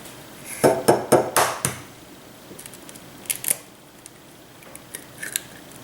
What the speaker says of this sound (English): The recipe calls for 4 egg whites from large eggs, so I'm going to go ahead and separate those out.